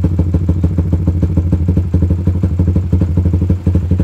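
Suzuki GSX R150 with a CLD Monster Race exhaust idling: a loud, close, even burble of rapid exhaust pulses holds a steady beat throughout.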